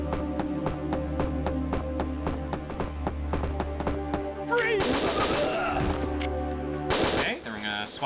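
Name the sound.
SMG gunfire breaking boxes in video game Winback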